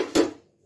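A kadai (wok) is shifted on a kitchen surface while panjiri is being prepared: a single short metallic clank and scrape of the pan, close and clear, dying away quickly into silence.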